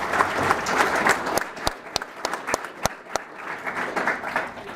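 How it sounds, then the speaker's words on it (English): An audience at a pathway program celebration gives a round of applause. Dense clapping at first thins out to scattered individual claps, sharp and distinct, that trail off over a few seconds. "go ahead and give him a round of applause."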